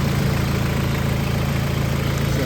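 A 2002 Toyota Tiger four-door pickup truck with a 2.5-litre J engine idles steadily with a low, even rumble that holds constant throughout, close by, with no voices.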